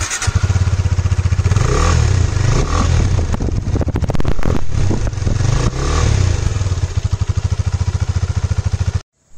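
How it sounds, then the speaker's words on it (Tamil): A KTM RC 390 BS6 motorcycle engine starts and revs loudly up close, with rising and falling throttle blips over a steady idle rumble before cutting off abruptly at the end. "ஸோ இப்போ நீங்கள் கேட்ட சவுண்ட் வந்து பிஎஸ் 6ஓட சவுண்ட் 390 வருது."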